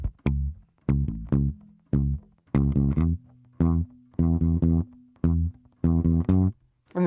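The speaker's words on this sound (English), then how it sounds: "maybe spice it up a little bit, maybe give it a throwback feel to the 60s by palm muting it" Palm-muted bass guitar plays a bass line with a 60s throwback feel, short thumpy damped notes in clipped groups with gaps between them, close and alone.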